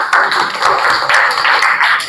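Students in an Islamic education classroom clap hands together in a loud, close burst of rhythmic, somewhat uneven claps lasting about two seconds.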